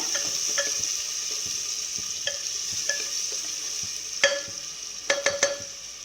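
Brinjal subji ingredients sauté in a pan with a steady hiss of frying oil, broken by sharp spoon taps against the pan that cluster in quick bursts near the end, heard close with no voices.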